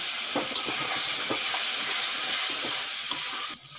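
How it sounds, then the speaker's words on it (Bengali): Spices fry in a pan: coriander, cumin, turmeric, salt, Kashmiri and hot chilli with a splash of water. A close, steady sizzle runs under a few light stirring clinks and scrapes, then drops away sharply at the end. "মশলাও ভালো করে ভেজে নিয়েছি"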